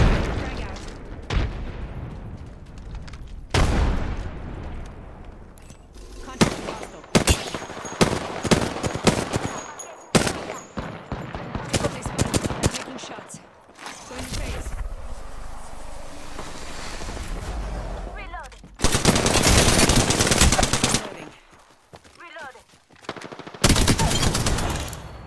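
Heavy automatic gunfire from an Apex Legends battle royale match: dense, loud bursts and sustained fusillades with brief gaps, mixed with game effects and occasional callout voices.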